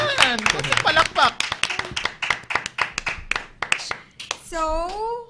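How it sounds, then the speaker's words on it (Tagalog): A small group claps in a quick burst of sharp, uneven hand claps mixed with lively talk and laughter, ending in a drawn-out vocal exclamation. "Palakpak!"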